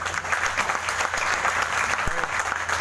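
An audience at a Hindi poetry recital (kavi sammelan) claps in a dense, steady burst of applause throughout, fairly close and even in loudness.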